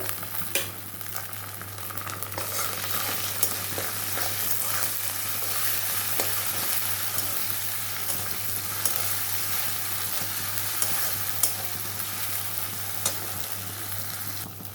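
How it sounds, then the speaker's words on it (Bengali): Onions with ginger-garlic paste fry in oil, giving a continuous, fairly loud crackling sizzle close by, with scattered pops and a low steady hum beneath. "এই যে পেঁয়াজটা কিন্তু আমার ভাজা হয়ে গেছে পুরো ভালো করে ভেজে নিয়েছি লাল লাল করে এবার দিয়ে দেবো আদা রসুন পেস্ট"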